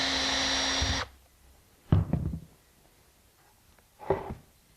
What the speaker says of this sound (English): focus on the blade until it comes to a dead stop before reaching in